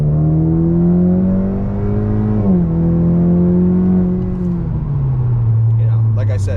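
Honda Accord 2.0t fitted with a DC Sports exhaust, heard from inside as it accelerates hard, a loud, droning engine note climbing in pitch, dipping at a gear change, then rising again before easing off.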